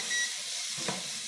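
Chicken giblets frying in a pan give off a soft, steady hiss of sizzling fat, with a brief faint stir partway through.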